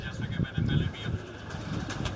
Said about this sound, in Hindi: जो टैडी ब्रीड है ये आपको दिखाए जा रहे हैं, ये कबूतर